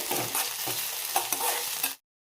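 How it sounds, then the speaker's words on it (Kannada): Onions fry in a pan for an onion bread roast, a continuous close sizzle broken by several soft scraping stirs, then cutting off abruptly into silence. "ಚೆನ್ನಾಗಿ ಫ್ರೈ ಆಗಬೇಕದು ಈರುಳ್ಳಿ"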